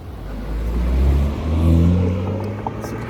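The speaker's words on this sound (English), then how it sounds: "It's a fancy car." A passing car with a medium engine revving as it goes by on a street, the steady low rumble swelling toward the middle and fading as it moves away, with no talking over it.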